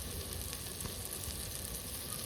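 Salt, hing and turmeric for a fish curry frying in a pan with a continuous, even sizzle and crackle, close and uninterrupted for the whole stretch.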